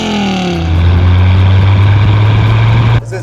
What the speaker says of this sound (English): Definitely sounds awesome with the side exhaust and the V10